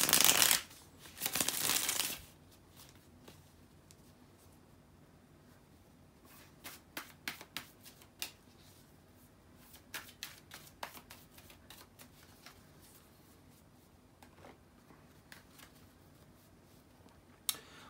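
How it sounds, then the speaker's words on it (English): Tarot cards shuffled by hand in a couple of loud, dense riffling bursts at the start, followed by scattered soft snaps and taps as the cards are handled, with no talking. "So let me shuffle the cards and see what we got."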